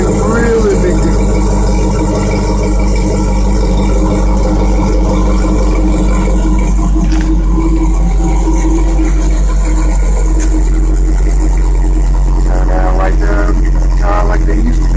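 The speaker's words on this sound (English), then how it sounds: "Like I said, the exhaust is awesome." A 1984 Monte Carlo with an LQ9 engine idles through an X-pipe exhaust, a loud, steady, deep rumble close by that continues unbroken, with some faint clatter toward the end.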